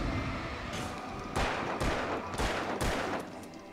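Gunfire in the Alan Wake PC game: four or five sharp, loud shots at irregular intervals over a low rumbling background, with no voices.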